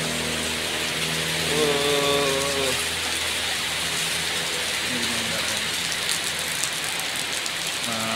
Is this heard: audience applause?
no